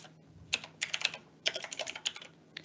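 Typing on a computer keyboard, close and clear, in uneven bursts of rapid clicky keystrokes separated by brief pauses, with no talking.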